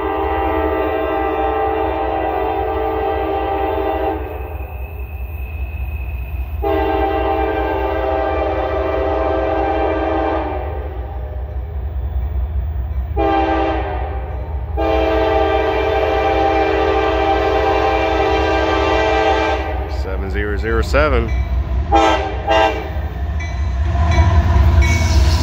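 Eastbound CSX freight train M372 passes Point of Rocks, Maryland. Long blasts of the horn sound in several bursts over a steady rumble of wheels, and the horn then turns into quick short honks near the end.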